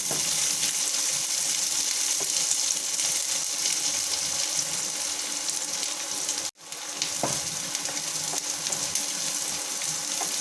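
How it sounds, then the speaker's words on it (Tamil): Chopped onions sauté in a pan of hot oil, a loud continuous sizzle heard up close for about ten seconds, with one abrupt brief cut partway through and a few faint stirring knocks. "வெங்காயம் நல்லா வதங்கட்டும்"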